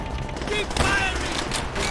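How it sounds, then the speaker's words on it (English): Dense, rapid gunfire in the World at War video game keeps up as steady overlapping bursts throughout, with a voice talking over it. "Keep firing."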